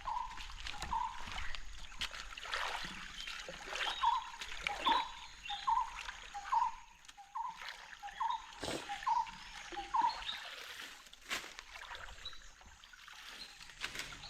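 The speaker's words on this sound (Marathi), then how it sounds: "पहिला भरपूर पाणी येत होता आणि आता हळूहळू कमी होत चालला" A faint trickle of water runs through a forest channel in rural Konkan, soft and steady, with a repeating run of small chirping calls above it.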